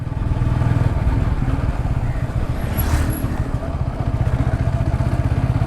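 Motorcycle ride through city streets toward the Shyambazar area, a steady close engine drone with rumble and wind throughout, no clear speech.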